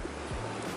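Water pours down in a rainy snowy landscape, a broad steady rush of falling water with low wind rumble, heard close and continuous throughout.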